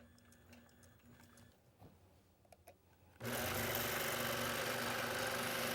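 A sewing machine stitches a quilt seam, first running in short intermittent bursts with small ticks, then settling into a loud, steady, continuous whir close to the microphone.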